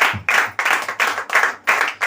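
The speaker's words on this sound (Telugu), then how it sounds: "చప్పట్లు కొట్టండి ఒకసారి అందరూ కూడా." A church congregation claps together in several bursts, the rhythmic group applause rising and falling in roughly regular waves for about two seconds with no voices over it.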